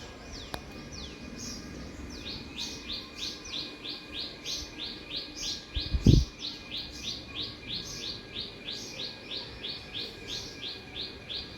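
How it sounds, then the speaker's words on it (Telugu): House sparrows chirp in a rapid, repeated series of bright tweets close by in a rural morning setting, with one short louder knock or thump partway through. "వీటి నుంచి ఊర పిచ్చుకలు వస్తున్నట్టున్నాయి"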